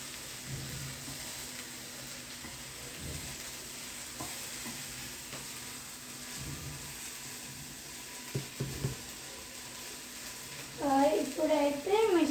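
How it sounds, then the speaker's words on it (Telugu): Onions fry in a pan with a steady, soft sizzle and occasional stirring scrapes, while someone talks faintly in the background and a louder voice joins at the end. "ఆనియన్స్ బాగా ఫ్రై అవ్వాలి"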